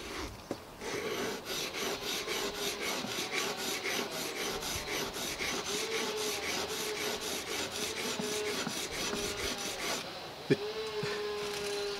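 Old salvaged chisel being sharpened on an oil stone worn with a dip in the middle, a steady rhythmic rasping of back-and-forth strokes, close and fairly loud, ending with a light metallic clink.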